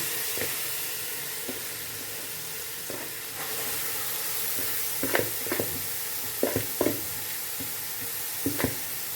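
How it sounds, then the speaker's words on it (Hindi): Grated carrots frying in hot oil in a pan, a steady loud sizzle and hiss with occasional scraping stirs of a spoon rising above it. "अब इसी ऑयल में जो हमने गाजर ग्रेट की थी वो इसमें हम ऐड कर लेंगे।"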